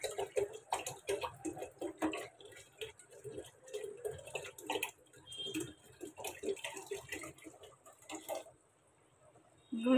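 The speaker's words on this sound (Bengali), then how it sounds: "তার আগে আমি রসটাকে ঢেলে" Fresh date palm sap is poured from a bottle, making an irregular splashing and gurgling close by that tapers off near the end.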